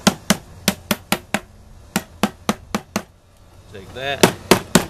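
An old screwdriver taps paint can lids back into place, a rapid series of sharp metallic knocks in quick bursts, then a brief spoken remark, then a few more taps.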